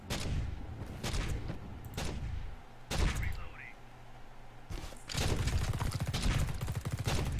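Sentry turrets fire in The Red Solstice in dense, rapid bursts of gunfire that fill most of the stretch, with short gaps between volleys and the loudest run near the end.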